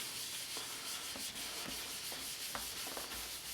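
A wipe rubbed over spray ink on a craft background, giving a soft, steady scrubbing swish with faint repeated strokes, close and quiet, no voices.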